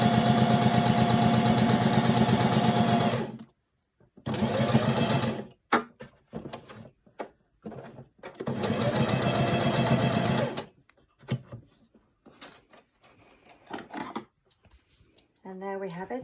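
Sewing machine stitching a fabric face mask, running in two long steady bursts separated by short pauses with small handling clicks and rustles of cloth.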